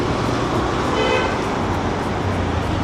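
Riding pillion on an Ola bike taxi through Delhi traffic, with a loud, constant roar of engines and road noise close around and a horn tooting briefly in the middle.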